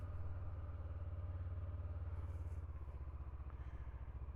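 A 2023 Honda CB500X motorcycle engine runs close by with a steady, even throb that holds throughout and has no talking over it.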